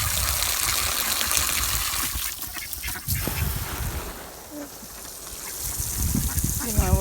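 Water trickles and patters as it is sprinkled over ducks on a hot day, with quacks and honks breaking through the splashing at moderate, fairly close range.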